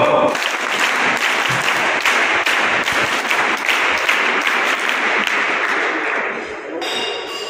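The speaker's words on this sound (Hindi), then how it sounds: "एक बार स्पेशल ताली बैठकर एनएसएस स्पेशल ताली गो।" A seated crowd at a state camp performs a special NSS group clap, a dense, loud wash of many hands clapping steadily for several seconds before thinning out near the end.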